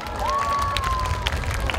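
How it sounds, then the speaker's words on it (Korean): An audience applauds at a 2022 school club festival in Siheung after a performance by a middle school Christian student club. The clapping and cheering are dense and sustained, and a thin whistle-like tone rises and holds early on. "우리 용기 내어서 고백해준 우리 학생들에게 뜨거운 박수 한번 부탁드리겠습니다."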